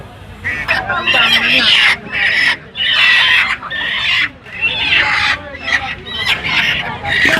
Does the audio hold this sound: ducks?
yes